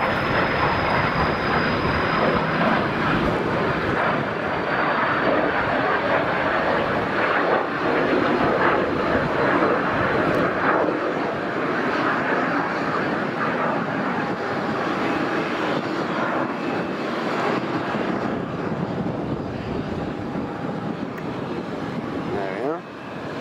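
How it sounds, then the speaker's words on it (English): A private jet at Tenerife South Airport gives a steady, loud jet roar that fills the whole stretch, broad and continuous, with a voice talking over it. "Oh, private jet. Here it is."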